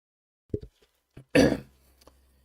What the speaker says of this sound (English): Just blowing my nose.